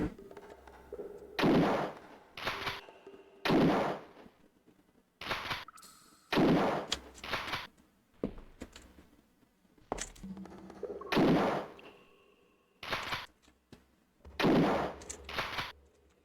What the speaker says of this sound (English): since I love the fucking sound files of the guns